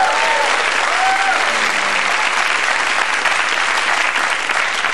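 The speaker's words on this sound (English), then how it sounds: "Give Tom a round of applause." Studio audience on an Australian television talk show breaks into sustained, loud applause, a dense steady wash of clapping that holds evenly throughout with faint voices mixed in.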